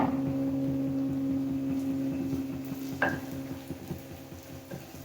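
Spices frying gently over low heat in sesame oil for vatha kuzhambu, a soft steady sizzle under a kitchen hum, with one sharp clink of metal partway through and no talk.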